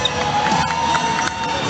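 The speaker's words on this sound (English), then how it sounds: "Michah Graham looking to get the crowd hyped up" Crowd at a fighting event cheering and shouting between rounds, a dense, continuous roar with scattered higher yells.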